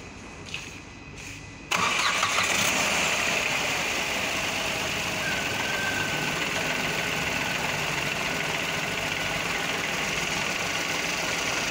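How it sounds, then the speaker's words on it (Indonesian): A Renault Kwid's 1000cc engine cranks and catches after a moment of quiet, then settles into a steady, even idle close by. "ini dia mesinnya, kita nyalakan"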